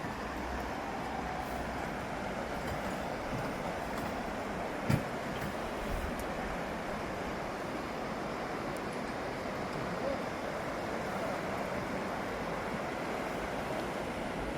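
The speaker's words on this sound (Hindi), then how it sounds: "नदी बहती हुई" River flowing at a rafting start point in Kullu Manali, a steady broadband rush of water heard continuously, with no clear breaks.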